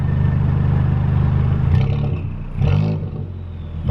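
Straight-piped Audi TT Mk1 engine, very loud, idling with a rough burbling pulse before two sharp blips of the throttle rev up and drop back, close by, no talking.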